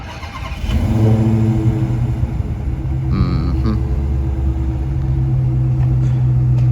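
Dodge Charger Hellcat Redeye engine rumbling and revving nearby at a shop, a loud steady idle rising after a brief start, with a short rev burst midway and no talk.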